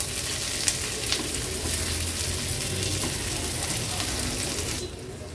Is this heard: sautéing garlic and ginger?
yes